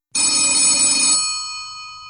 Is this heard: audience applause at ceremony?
no